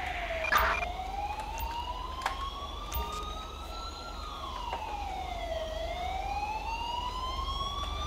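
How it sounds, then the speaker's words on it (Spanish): A wailing ambulance siren in the GTA 5 video game, its tone sweeping slowly up and down in long smooth cycles, moderately loud and continuous over a low rumble, with no voices. "Pues nada, otra ambulancia."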